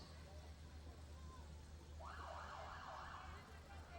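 Siren from the Windom Ambulance Department's two units in a small-town Minnesota Riverfest parade, a short warbling wail rising over steady outdoor crowd and engine rumble, moderately distant, lasting about two seconds.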